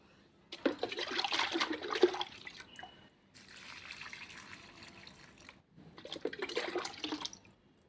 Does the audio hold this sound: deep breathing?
no